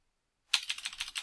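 Quick, even keystrokes on a computer keyboard while entering a Python filename in ArcGIS, a close run of crisp clicks starting after a brief silence.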